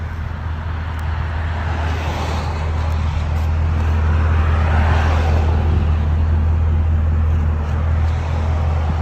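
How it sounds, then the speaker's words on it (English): A 2010 Ford Crown Victoria Police Interceptor with a 4.6L V8 and true dual exhaust with an H-pipe, Flowmaster Flow FX mufflers and 4-inch tips, idles in a steady, deep, low rumble, loud and close, no talking. "Nice idle, not too loud. Flow FX makes it nice and deep."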